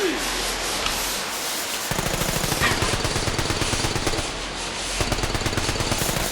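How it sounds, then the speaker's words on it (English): A fully automatic Johnson SMG fires in a video game in long, rapid rattling bursts of tightly packed shots, set against a constant hissing, spraying noise like a hose. "the only way we're going to stop it is to match its fight with the strength of our fully automatic Johnson SMG"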